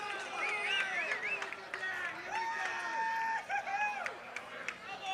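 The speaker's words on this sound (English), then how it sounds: "And the crowd cheering on their hometown team." Crowd cheering at a summer collegiate baseball championship game, a broad wash of cheers under a commentator's voice speaking throughout.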